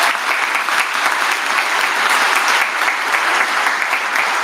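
A dense, even round of applause fills an honors convocation at Talladega College, a loud, continuous wash of clapping from a large seated audience with no pauses.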